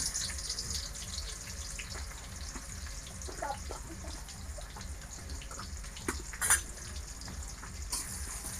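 Onions sizzle in a pan on a village cooking fire, a faint continuous crackle with occasional clinks of a utensil against the pan.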